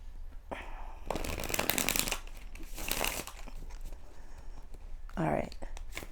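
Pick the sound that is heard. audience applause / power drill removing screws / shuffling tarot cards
shuffling tarot cards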